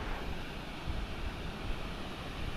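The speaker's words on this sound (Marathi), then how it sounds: "बघा समोर पडतोय धबधब्याचं पाणी" Waterfall water falling beside the Konkan railway at Ukshi Ranpat, a steady, moderately loud wash of falling water with a constant roar and no talk.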